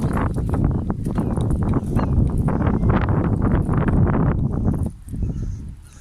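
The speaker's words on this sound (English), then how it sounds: "Fucking windy as fuck." Heavy wind buffets the microphone in loud, rumbling gusts that barely let up, easing briefly near the end.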